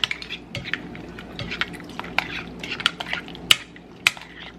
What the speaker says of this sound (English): And I'm going to stir in some olives.